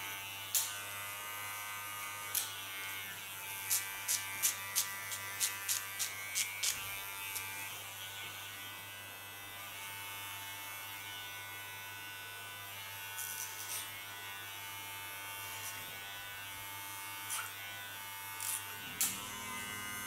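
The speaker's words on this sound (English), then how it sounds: "I do now with clipper." Electric hair clipper trimming short silver-gray hair in a pixie cut, a steady close buzzing drone with short clicks and bursts as the blades move along the back and around the ears.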